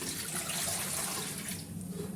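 Water pours steadily into a cooker for boiling sago, a soft continuous rushing splash that eases slightly toward the end.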